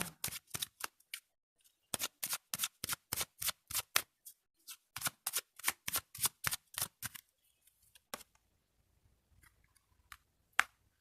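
Tarot cards being shuffled by hand in a quiet room, a long run of quick, crisp riffling bursts in a steady rhythm, close and clear, then a few scattered taps and one final snap.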